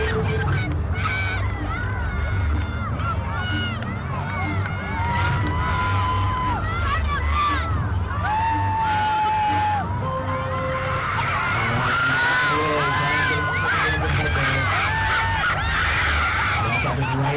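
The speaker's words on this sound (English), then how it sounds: "Let's cheer him on for this launch." A crowd cheers and shouts for a car launch at a school grand prix race, with children's excited voices, whistles and a loud, continuous babble of talk throughout.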